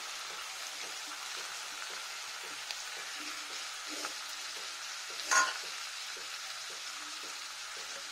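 Cumin paste sizzles in hot oil for a meatless cauliflower curry cooked without onion or garlic, a quiet, even frying hiss with light crackles and one brief clink partway through.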